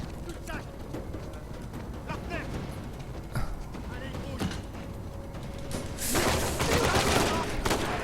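Gunfire in the video game Uncharted 4, a mix of scattered game combat sounds with a loud burst of shooting near the end, all under an ongoing game soundscape with a player's voice.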